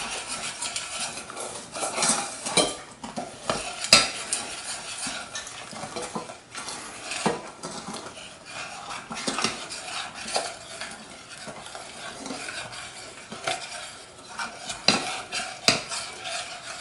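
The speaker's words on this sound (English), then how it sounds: "Stir in the milk. A little at a time." A spoon scrapes and stirs around a bowl as canned milk is worked into coconut cream pie filling, making a steady scratchy churning with occasional sharp clinks of utensil on the dish.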